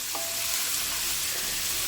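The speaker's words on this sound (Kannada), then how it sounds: "ಚೆನ್ನಾಗಿ ಎಣ್ಣೆ ಒಳಗಡೆ ಫ್ರೈ ಆಗಬೇಕಿದು" Chopped chayote frying in hot oil with tempering spices, a steady close sizzle throughout with a brief stir.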